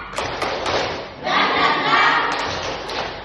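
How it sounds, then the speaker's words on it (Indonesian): A class of students claps together in a rhythmic spirit clap, a burst of sharp claps followed by a denser, louder stretch of clapping with faint voices. "Tepuk semangat."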